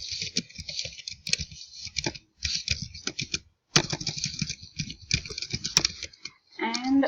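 Code typed on a computer keyboard: close, crisp key clicks in quick irregular bursts separated by short pauses, one brief full silence in the middle, with no speech.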